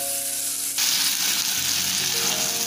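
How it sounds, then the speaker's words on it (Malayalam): Ground spice paste for a traditional curry poured into a hot pan, bursting into a loud, steady sizzle that swells partway through and continues close up with no talking. "ഇതിലേക്ക് നമുക്ക് അരച്ച് വെച്ചിരിക്കുന്ന അരപ്പൊഴിക്കാം."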